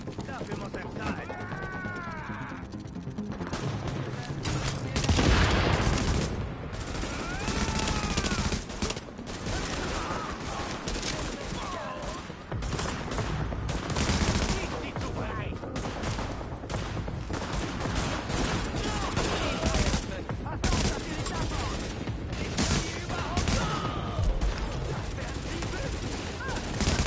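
Gunfire in The Division video game: loud, dense bursts of rifle and automatic fire, repeated throughout with short gaps, mixed with shouted voices.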